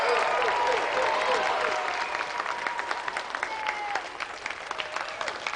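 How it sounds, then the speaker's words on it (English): A TV game show studio audience applauds steadily for athletes Carl Lewis, Colin Jackson and Linford Christie. Dense clapping with some cheering fills the room, fading slightly toward the end, and a voice speaks over it. "So let's have another round of applause for Carl Lewis, Colin Jackson, Linford Christie."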